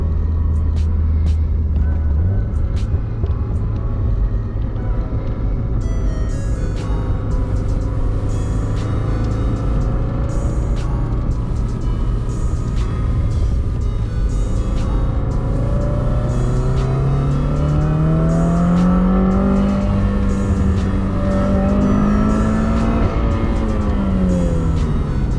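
A Subaru WRX with a full suspension setup pulls hard through the gears on a canyon road, its turbocharged engine droning loud and steady with rising pitch sweeps as it revs up and shifts, continuous and close with no talk.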